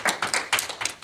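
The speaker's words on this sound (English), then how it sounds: "can all the kids give their family a round of applause for us as well?" A short burst of clapping as children applaud their families at a town board meeting. The hand claps come in quick uneven clusters, fairly close, with no talking.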